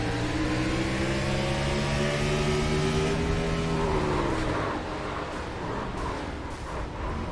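A sim race car engine screams at a steady high pitch at Pocono, then the tone drops and falls away abruptly as the gear change fails, stuck between gears, leaving rougher mechanical noise.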